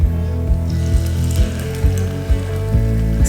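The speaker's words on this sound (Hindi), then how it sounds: "अब चलिए इसको हम फ्राई करते हैं।" Marinated fish frying in hot oil for a crispy fish fry, a loud close bubbling sizzle interrupted by regular low thumps every half second or so.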